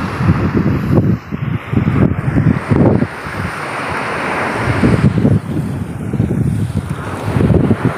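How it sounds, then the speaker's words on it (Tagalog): Big ocean waves surge around a small fishing boat at sea during a typhoon, with loud gusting wind buffeting the microphone and repeated heavy rushes of water. "Grabing alon."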